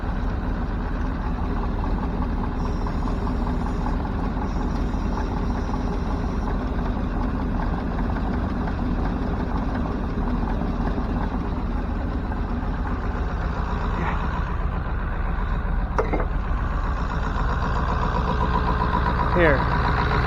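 A Ford F600 truck engine idles steadily after starting and warming up, a continuous low rumbling drone held close for the whole stretch with faint clicks near the end and someone talking over it.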